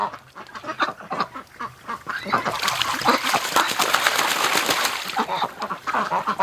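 Ducks and geese bathing in a winter pond, with steady splashing and flapping water building up after the first few seconds, mixed with occasional quacks and honks, fairly close and continuous.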